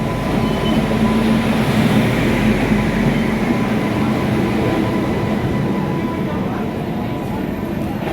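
A train rolls through Rampurhat station with a heavy, continuous rumble and rattling carriages, close and loud, while murmuring voices sit underneath.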